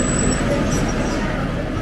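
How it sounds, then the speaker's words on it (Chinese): A Chinese-made Yutong city bus on a street in Armenia gives a loud, steady low engine rumble with traffic noise, close and constant. "看这边公交车， 这公交车是中国的吧？ 果然宇通的"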